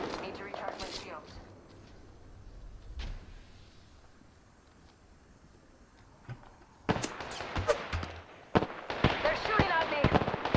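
Enemy gunfire in a video game, sharp cracking shots at the start, a quieter stretch with a lone shot, then a dense rapid volley of bursts toward the end, with a voice talking over parts of it.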